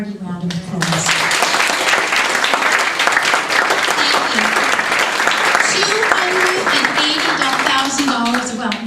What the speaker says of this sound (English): can we have a hearty round of applause?